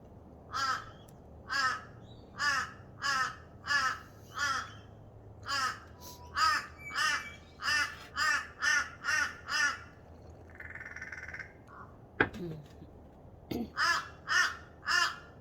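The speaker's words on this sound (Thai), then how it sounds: "ตื่นเช้ามาก็จะได้ยินแต่เสียงกานี่แหละค่ะแล้วก็นก เล็กนกน้อยทั่วไป" Crows caw repeatedly in short rhythmic bursts from moderate distance on an Australian morning, with a brief pause, a couple of sharp knocks, then more cawing.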